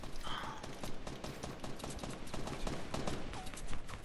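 Rapid bursts of gunfire in a squad-based battle royale shooter, dense and continuous across the clip amid busy game noise, with brief voice chatter mixed in.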